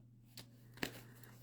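Tarot cards being shuffled by hand make two brief, soft riffling bursts about half a second apart, faint over a steady low electrical hum, with no talking.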